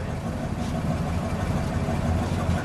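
A 1961 DeSoto engine idles steadily with a low, even rumble that holds constant throughout, fairly close and moderately loud.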